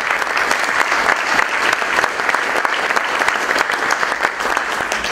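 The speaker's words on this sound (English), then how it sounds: "Let's give our lead sponsors a round of applause." Dense, steady audience applause at a policy talk dinner honoring sponsors, a continuous wash of many hands clapping at close range with no speech over it.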